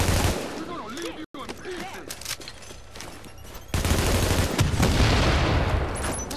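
Assault rifle gunfire in The Division's Dark Zone, sustained bursts of shots that grow louder and denser partway through, with game ambience and faint voices underneath.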